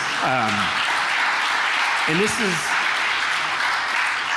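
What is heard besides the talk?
congregation clapping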